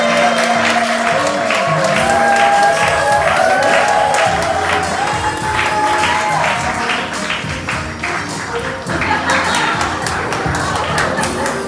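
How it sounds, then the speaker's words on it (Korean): Church audience applauding and cheering as a young speaker is introduced at a talk event, a dense steady wash of clapping with scattered whoops that stays loud throughout. "제가 신승철 토커 나올 때 큰 박수 부탁드리겠습니다."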